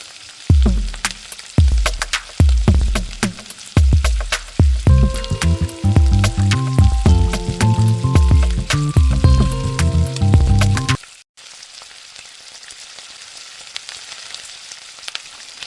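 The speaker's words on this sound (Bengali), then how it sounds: "মশলাটাকে খুব ভালো করে কষিয়ে নেব।" Masala spice paste with a splash of water fries in a pan for a soya chunk and egg dish, crackling and sizzling under repeated sharp stirring scrapes for about eleven seconds before the sound drops to a quiet hiss.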